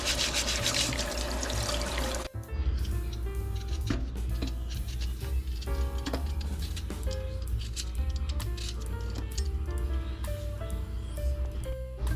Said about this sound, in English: you're going to want to start with washing and peeling your potatoes